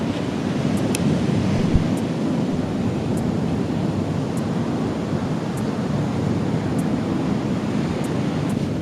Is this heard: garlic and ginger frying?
no